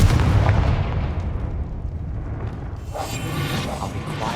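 Confringo fire spell from Hogwarts Legacy detonating in a heavy booming blast, followed by a rumbling decay and a second crackling burst of debris.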